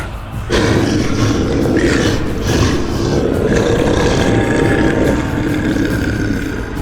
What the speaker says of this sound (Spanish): Dio un rugido bestial, atronador.